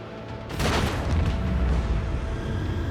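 Torpedoes detonating in the Warhammer 40,000 Rogue Trader game, a sudden loud boom followed by a sustained rumbling explosion that fades slowly over the next few seconds.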